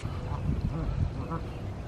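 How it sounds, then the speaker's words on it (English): Geese crowd close while being hand fed, giving repeated nasal honks and quacking calls over a steady background, with a voice talking intermittently. "Surrounded by geese"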